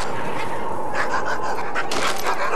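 Several puppies yip, pant and whimper in a mid-1990s Canadian TV commercial, a busy cluster of short, excited dog sounds running throughout with no talk over them.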